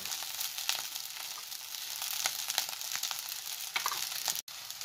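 Fried rice sizzles steadily in a hot pan while it is stirred, with soft crackling and occasional scraping strokes, close and even throughout.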